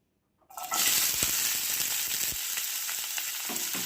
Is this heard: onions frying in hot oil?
yes